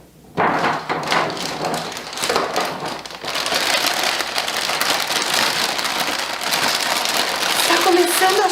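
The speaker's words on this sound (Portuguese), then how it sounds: "Começando a chuva." After a brief quiet start, rain begins hissing down steadily on a surface, dense and continuous, with a few dull thumps early on.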